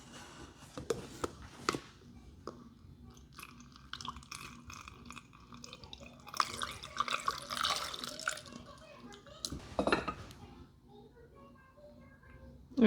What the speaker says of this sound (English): I'm gonna pour our brine.